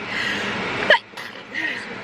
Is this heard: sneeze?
yes